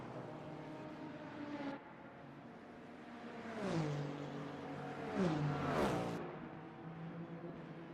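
Racing cars, a Ferrari and a Cadillac, circulating at the Fuji track: a steady engine drone with rising and falling pitch sweeps as cars pass nearby, no talking.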